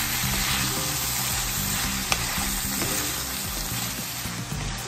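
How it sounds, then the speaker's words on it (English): Steak and vegetables sauté in a hot pan with a steady, dense sizzle and occasional soft stirring clinks, close and continuous with no voices. "Saute for 1 more minute and it's done."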